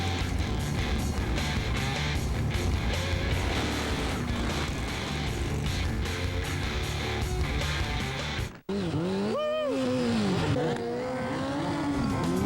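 Loud, continuous engine roar of motorcycles revving and passing during Bike Week 2003, dense and close, with a brief cut near the end and a rising whine afterward.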